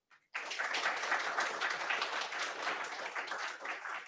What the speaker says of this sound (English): can we please give a warm tropical round of applause